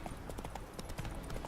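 Roach the horse gallops in The Witcher 3, with a steady rhythmic clip-clop of hooves under busy game ambience.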